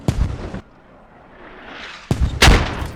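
In the military shooter game Squad, booming artillery blasts hit nearby: one sharp loud impact opens, a quieter rumbling gap follows, then another heavy explosion and its rolling echo crash in close.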